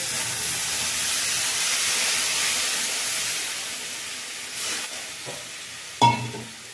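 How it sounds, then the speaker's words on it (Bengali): Spices fry in a pan for a vegetarian mixed vegetable curry, a steady hissing sizzle that fades slightly, then a few stirring scrapes and a sharp utensil clank near the end, with no talk. "মশলাটা একটুখানি ভেজে নিয়ে জল দিয়ে দেবো।"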